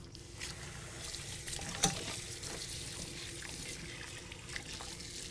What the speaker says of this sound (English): I'm going to add 1/4 cup of water.